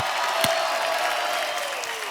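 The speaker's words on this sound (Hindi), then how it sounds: "धर्म पाजी एक बार जोरदार तालियां बनती है।" A studio audience on a comedy talk show claps and cheers in a broad, continuous wash of applause with crowd noise, steady and fairly loud throughout.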